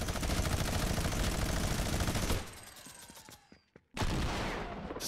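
Shotgun blasts and heavy gunfire in Fortnite Creative on a Nuketown map, a loud continuous barrage that drops away, then a sharp shot and renewed firing.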